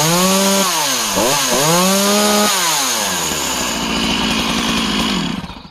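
A chainsaw of early-1970s vintage runs close and loud, revving up and down several times in rising and falling sweeps before settling into a rough, steady idle that cuts off at the end.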